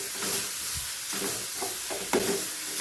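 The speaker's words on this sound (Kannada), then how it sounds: "ಒಂದು 2-3 ಸೆಕೆಂಡು ನಾವು ಕ್ಯಾರೆಟ್ನ ಎಣ್ಣೆಯಲ್ಲಿ ಸ್ವಲ್ಪ ಸಾಟೆ ಮಾಡ್ಕೋಬೇಕು." Grated carrot sautés in hot oil in a pan, a soft continuous sizzle broken by a few light scraping stirs, close by and with no voices.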